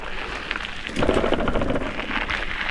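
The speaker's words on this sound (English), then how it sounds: "It's just sprinkling right now." Light rain patters steadily in New Mexico, a soft continuous hiss with a faint low rumble, no voices present.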